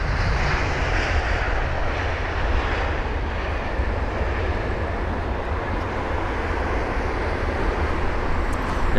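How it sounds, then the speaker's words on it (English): Air Canada Boeing 777 taxiing at London Heathrow, a steady, even roar of jet engines at idle thrust that holds without pause throughout, broad and fairly close, with no voices. "the mighty 777 of Air Canada taxiing towards us"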